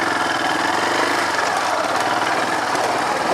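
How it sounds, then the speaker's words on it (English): A small engine on a heavy machine idles steadily up close, a dense continuous rumble with a rapid knocking pulse that holds level throughout, with no voices. "Idling better now, which is good"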